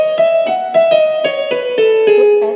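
Yamaha keyboard piano voice with the transpose setting raised, a quick run of distinct, ringing notes in a higher register, played close and clean with no talking.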